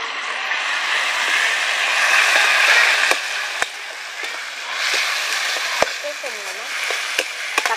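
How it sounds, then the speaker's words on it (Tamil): Tomatoes sizzle steadily in a hot pan while a utensil stirs them, with scraping clicks and taps cutting through the continuous frying hiss, no talk over it. "தக்காளி நல்லா வதங்குற வரைக்கும் நல்லா வதக்குவேன்."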